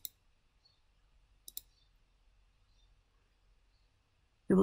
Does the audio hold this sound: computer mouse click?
yes